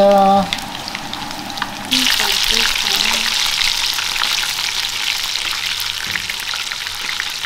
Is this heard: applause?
no